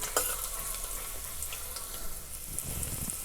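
Chopped garlic and small ginger pieces fry in hot oil in a pan, a soft, steady crackling sizzle with faint stirring scrapes, close but quiet, with no voices.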